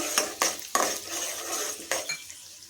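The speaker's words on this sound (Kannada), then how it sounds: "ಈಗ ಇದಕ್ಕೆ ಈ ರೀತಿ ಮುರ್ಕೊಂಡಿರುವಂತಹ ಒಣಮೆಣಸಿನಕಾಯನ್ನು ಸೇರಿಸಿ ಇದನ್ನು ಸಹ ಹುರಿತಾ ಇದ್ದೀನಿ" Broken dried red chillies frying in a pan for a palak curry, with a few sharp stirring and utensil scrapes over a steady soft sizzle, close and fairly quiet, no talking.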